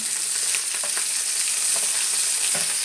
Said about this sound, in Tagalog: Gisa ng bawang.